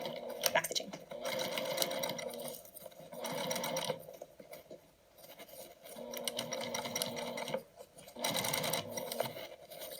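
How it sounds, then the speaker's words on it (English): A sewing machine runs top stitching and basting through the layers of a patchwork basket at a stitch length of about 3, whirring in steady bursts with short pauses for backstitching, fairly close and moderately loud. "I'm going to sew right on top of the other top stitching and basting"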